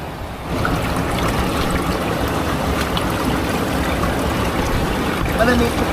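Steady rushing of flowing stream water fills the clip, close and continuous, with a voice faintly in the background.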